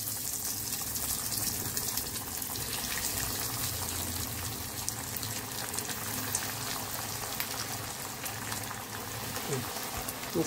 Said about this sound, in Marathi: तर हे बघा आपले हे कटलेट आहेत ते याच्यात तेलात आपण